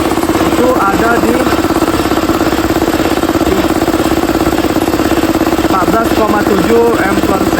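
An electric compressor motor runs loud and close during a maintenance check, a steady pulsing hum with a rapid rattling beat throughout. A voice speaks faintly over it at times.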